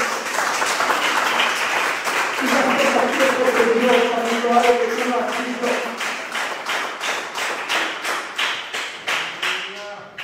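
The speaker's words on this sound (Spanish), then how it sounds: "Dale un fuerte aplauso si lo crees" Pentecostal church congregation applauding loudly beneath a preacher's voice, the clapping settling into a rhythmic, evenly spaced beat as it continues.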